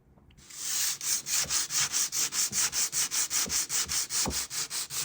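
Back-and-forth hand sanding with coarse 100 grit sandpaper on a wooden window frame, a steady rhythmic scratching of about twenty close, loud strokes with no talking.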